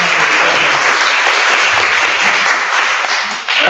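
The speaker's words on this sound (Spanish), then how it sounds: "Bueno, otro aplauso, ¿no?" An audience at a school lecture breaks into loud, steady applause, a dense even wash of clapping that starts to thin near the end.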